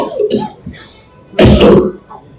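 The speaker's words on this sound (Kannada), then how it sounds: "ಕೆಮ್ಮಿದೆ ಸ್ವಲ್ಪ" A person gives a short cough partway through speaking, one loud, close burst standing out between stretches of quieter talk.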